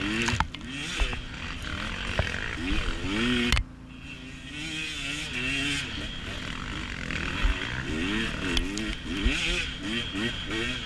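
A dirt bike in a hare scramble race climbs a hill in first or second gear, its engine revving and dipping in uneven surges up close, with a person talking over it.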